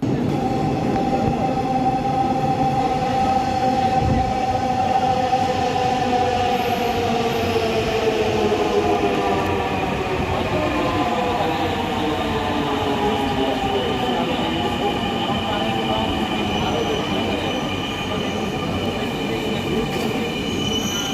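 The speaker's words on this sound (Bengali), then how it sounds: "তো মেট্রো রেল আসছে" A Dhaka metro rail train pulls in, its steady rumble joined by long rising and falling wheel squeals that sweep across the whole stretch, loud and close, with no pause.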